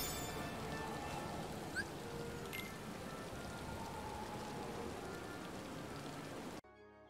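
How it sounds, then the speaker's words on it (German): Steady, dense rain pours in the Olympus world of the video game Kingdom Hearts III, a loud continuous hiss and patter throughout with no distinct thunderclap standing out before it cuts off near the end. "Hier, wo es schon regnet und gewittert"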